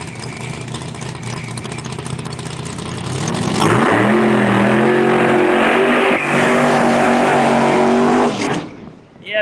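A ProCharger supercharged Pro Extreme drag race car roars loudly and close, its engine climbing through rising revs, holding a harsh, sustained blast, then fading abruptly at the end.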